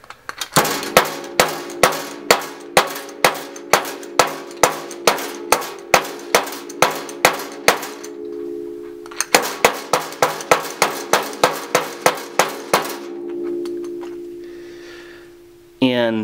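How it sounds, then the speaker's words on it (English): A 3D-printed mallet strikes a nail into a board repeatedly in a steady, rapid rhythm, each blow a sharp metallic clang, with a short pause midway before the pounding resumes. "first test is a nail straight into the board."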